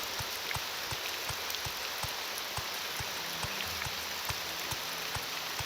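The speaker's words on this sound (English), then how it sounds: "I love the rain." Steady rain in Morrowind with the Tamriel Rebuilt mod, a constant even hiss of falling water with a regular low rhythmic thump beneath it, loud and continuous with no voices.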